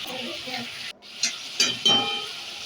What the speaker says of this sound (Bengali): টমেটোটাও দিয়ে দিলাম, ভালো করে একটু কষিয়ে নেব।